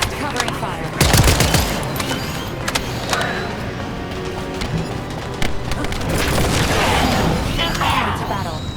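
Gunfire in The First Descendant video game: dense bursts of automatic shots and booms crowd the scene, with a sharp loud blast early on and sustained rattling fire afterward, while voices speak amid the battle noise.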